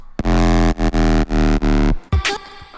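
A heavy, buzzy synth bass with effects processing plays a run of loud sustained notes with brief breaks, then cuts off into a short burst of noise.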